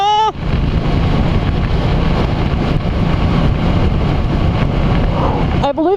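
A 2016 Triumph Bonneville T120 motorcycle riding at speed in third gear, heard as loud, steady rushing wind buffeting the microphone over an engine drone for several seconds, with brief whistling tones at the start and end.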